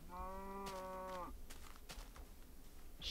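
A cow in Minecraft gives one drawn-out moo, clear and near, cut off after about a second and followed by faint background noise.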